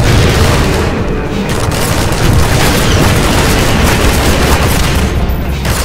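Rocket explosions from the Half-Life 2 shooter game fill the scene with continuous loud booms and crackling bursts during a fight against Striders, a dense, saturated barrage with no pause.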